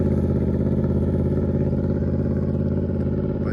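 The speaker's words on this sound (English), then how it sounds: "So I'm gonna have him do a few passes, get a feel for the bike." A Yamaha R1 sport motorcycle runs through slow practice passes with a learner rider, its engine holding a loud, steady, close drone throughout with a faint rattle on top and no speech.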